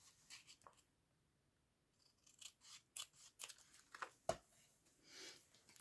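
Scissors snip through paper for a window coin envelope with wrap closure, a series of close, crisp cuts in irregular rhythm after a brief pause, with light paper rustling between snips.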